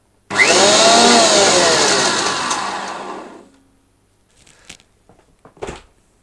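An Einhell TC-SP 204 planer-thicknesser roars loudly to life, runs for about three seconds, then winds down, followed by a few faint knocks and clicks.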